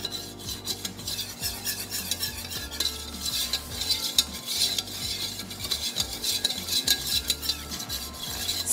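A utensil scrapes and stirs flour and butter steadily in a pan, with a light sizzle underneath and rhythmic rasping strokes, close and continuous.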